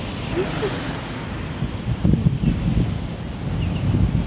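Gusty outdoor wind at a scenic viewpoint buffets the microphone with a loud, low rumbling roar that swells and eases in uneven surges.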